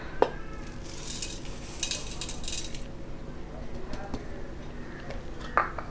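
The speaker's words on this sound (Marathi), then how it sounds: "मिठाला आधी आपण छान एकत्र करून घेऊया कैऱ्यांमध्ये। व्यवस्थित हलवून घ्यायचं आहे।" Raw mango pieces being tossed with coarse salt for a Khandeshi mango pickle, with soft scraping stirs and occasional clinks of a spoon against a dish while someone talks.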